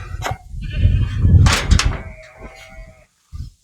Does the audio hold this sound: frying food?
no